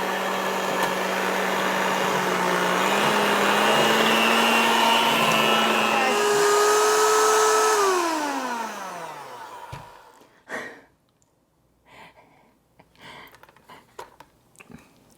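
Electric hand mixer whirring through a batter as powdered sweetener is blended in for keto pistachio cookie bars; a steady loud drone for about eight seconds, its pitch sliding down as it winds off, then scattered clatter and quiet handling.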